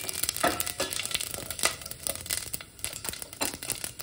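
Fennel seeds and cloves crackle in hot oil on a lowered flame, a close, busy, uneven spattering with quick pops throughout, and no voices over it.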